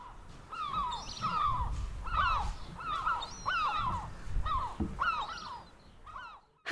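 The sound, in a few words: seagulls calling at the seaside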